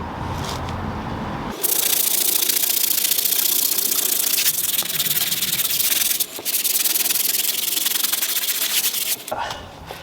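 A brush scrubs hard over a soaked working-van part, a loud, steady rasping rub running almost continuously, with brief pauses near the start and middle before stopping near the end.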